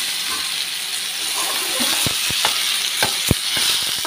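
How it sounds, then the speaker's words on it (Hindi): Spinach kofte sizzle in hot oil in a frying pan, a steady bright frying hiss with a few sharp pops and crackles scattered through the second half, close and fairly loud. "फ्राई पैन में ऑयल गरम कर लिया है और इसमें कोफ्ते डाल देंगे"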